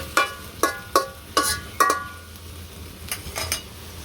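Okra frying in a wok: a spatula clangs against the metal pan in a quick series of ringing strikes, then softer scraping clinks over a low, steady background, with no talk.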